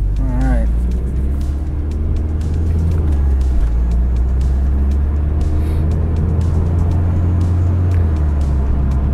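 A turbocharged 2010 Mitsubishi Lancer Ralliart Sportback with a dual-clutch transmission pulls away slowly, a loud, steady low engine drone heard from inside the cabin, with a brief voice at the start.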